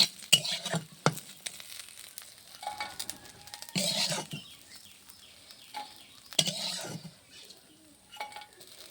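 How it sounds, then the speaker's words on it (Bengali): Dried puti fish crisping in a pan of oil sizzle in bursts while being stirred, with clinks of utensil against the pan and uneven surges of hiss between quieter moments. "মাছগুলো সুন্দরভাবে মশমুচে ভাজা হয়ে গেছে"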